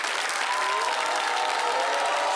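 Sustained applause from a talk-show studio audience in Bobo, Burkina Faso, thick continuous clapping with a faint tonal hum running through it.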